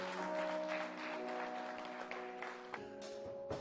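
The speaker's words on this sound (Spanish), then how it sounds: "Vamos a aplaudir con ganas" Church congregation applauding together, a dense sustained wash of clapping with a sustained musical tone ringing beneath it, ending in a few scattered louder claps.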